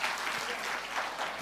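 A congregation claps through a church Christmas sermon, a soft, steady patter of many hands that sounds somewhat distant and keeps an even level the whole time.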